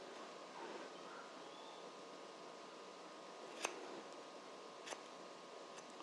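Scissors snipping the last bit of excess while a person trims their own hair, two or three faint, sharp clicks over a quiet room hiss.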